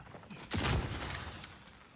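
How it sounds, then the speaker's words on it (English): Gunfire in Call of Duty Warzone cracks out as one loud close burst near the middle, ringing off over quiet game background with no talking. "There's gunfire above him and gunfire coming from the tower"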